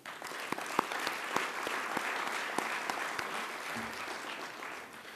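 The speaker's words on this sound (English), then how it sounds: "Can we give them a round of applause?" Conference audience applauding the organising staff at an opening session, a steady dense roll of many hands with a few sharp individual claps standing out, sustained for about five seconds.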